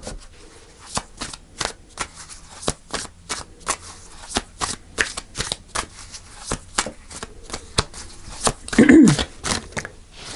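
Tarot cards riffled and shuffled in repeated quick bursts, close up, with a brief soft murmur near the end.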